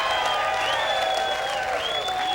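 A crowd applauds and cheers a serve at a 1998 AVP beach volleyball final in Tucson, dense clapping throughout with whistles rising over it.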